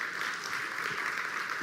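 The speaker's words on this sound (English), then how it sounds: "Please, let's give the Chief Financial Officer another round of applause." Summit attendees applaud the Chief Financial Officer in a conference hall, a short, even wash of clapping heard at a moderate distance.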